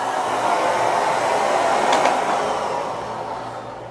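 Miele Guard M1 Parquet vacuum cleaner running on a floor, a steady airy motor whoosh, close and even, easing slightly toward the end with no voices.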